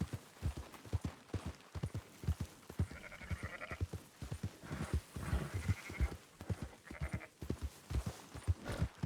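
A flock of sheep bleats repeatedly in Red Dead Redemption 2 while being rounded up, overlapping cries rising over a steady clip-clop of hooves close by, with no talk.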